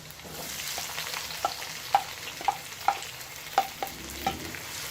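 Onions frying in hot oil for chicken biryani, with a steady soft sizzle and a few sharp crackles and pops as they are stirred, close up with no talking.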